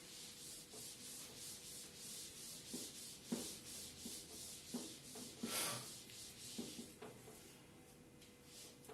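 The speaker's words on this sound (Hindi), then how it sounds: "मैं रब कर देता हूं।" Repeated rubbing strokes as writing is erased from a classroom board during a physics lesson, a steady brushing scrape with irregular louder swipes, close and alone without talk.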